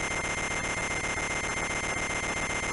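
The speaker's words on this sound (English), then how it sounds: "Oh no, it's just a really loud alarm clock." A loud, harsh, continuous buzzing ring from an alarm clock in the video game Wario Land II, steady and unbroken throughout with no voices.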